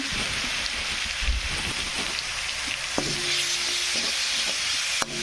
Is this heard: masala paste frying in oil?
yes